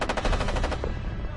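A Thompson submachine gun fires a short, rapid burst of shots, loud and close, followed by a brief echoing tail.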